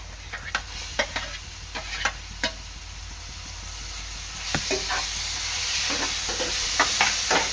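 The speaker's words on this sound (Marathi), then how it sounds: "कांदा चांगला लाल झाला तर यामध्ये मी टाकणार आहे आपली टोमॅटो बारीक झालेलं" Onion browned in a pan with finely chopped tomato, frying for an egg curry; a steady sizzling hiss runs throughout with sharp scraping stirs, growing louder and denser in the second half.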